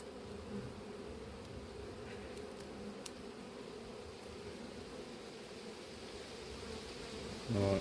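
Honey bees drone steadily around an open, empty hive nest in an apiary, a continuous close buzzing hum that holds even throughout, with a brief louder rustle at the very end.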